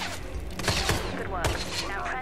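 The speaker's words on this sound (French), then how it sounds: "C'est qui me tire dessus?" Gunfire in the video game Hitman 3: a few sharp, scattered shots crack out, fairly quiet, with a faint voice in the background.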